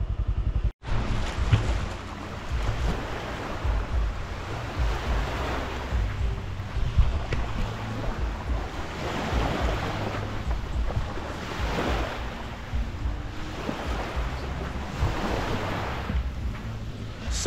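Surf rolling in at Sarai Beach on Koh Tao, Thailand, a steady wash of waves with wind buffeting the microphone throughout, loud and continuous with no talk.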